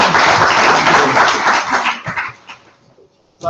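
Loud applause from a meetup crowd in London greeting the next speaker, dense at first, then thinning to scattered claps and fading almost to silence before a brief sound at the very end.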